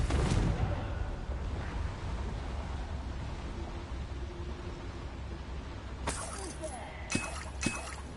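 The Confringo fire spell cast in Hogwarts Legacy gameplay: a loud explosive burst opens, then decays into a long rumbling hiss, followed near the end by a few sharp clinking cracks.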